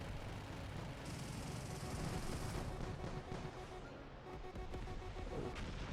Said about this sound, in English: the cannon's pretty solid on it